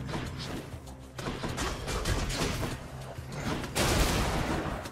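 Explosions and combat blasts from the action roguelike video game Hades, dense and continuous with a louder burst near the end, no voices.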